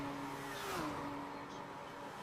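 Race cars in the video game Gran Turismo 6, engines whining and shifting pitch as they pass, with a steady tonal drone under a muffled, fairly quiet mix.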